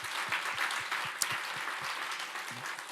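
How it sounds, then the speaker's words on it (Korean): Audience applause at a Korean worship concert: a fairly faint, even wash of many hands clapping from a seated congregation, steady throughout with one sharper clap near the middle. "우리 하나님께 영광의 박수를 드리겠습니다."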